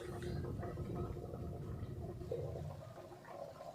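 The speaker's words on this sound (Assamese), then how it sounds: "এয়া চাওক উতল আহিলে" Palak paneer gravy boiling in a pan, a steady low bubbling and gurgling that fills the whole stretch at moderate level and eases slightly toward the end, with no talk.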